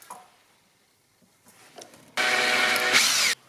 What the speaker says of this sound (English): I'm going to drill the hole for the button.